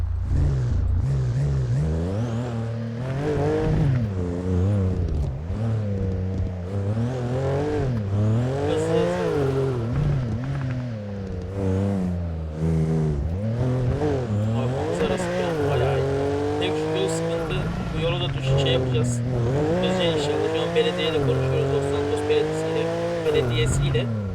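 A BMW in GTA 5, its exhaust noted as troublesome, revs and accelerates repeatedly, the engine note climbing and falling through gear changes with occasional tire squeal, while a voice talks over the steady engine roar.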